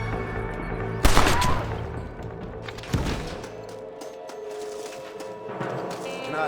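Gunfire in the 2010 video game Red Dead Redemption: two loud, sharp gunshots a couple of seconds apart, each ringing out over a busy game background.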